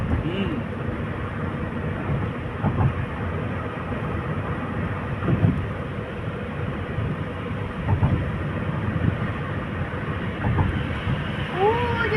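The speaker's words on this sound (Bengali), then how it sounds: "ওই যে দেখা যাচ্ছে ট্রেনটা যাচ্ছে ওদিকে" A train passes near an old British-built railway bridge, a steady rolling rumble with faint periodic clanks that carries on throughout at moderate distance.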